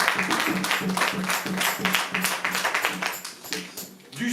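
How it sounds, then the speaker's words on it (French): Church congregation clapping during a Sunday worship service, a steady run of brisk, moderately loud handclaps that continues for a few seconds with a faint voice underneath. "Ah, vous pouvez applaudir Jésus"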